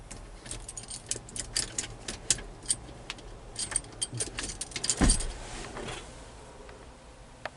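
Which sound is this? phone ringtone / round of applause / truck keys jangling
truck keys jangling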